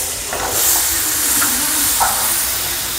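Onion hits butter and oil in a hot pan, giving a steady, loud, hissing sizzle that fills the whole moment, with a few faint clinks on top.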